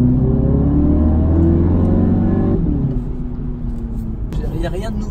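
A 2020 Audi TT Roadster 45 TFSI accelerates hard, its engine note climbing through the revs before a gear change drops the pitch, then pulling again with wind and road noise rising near the end.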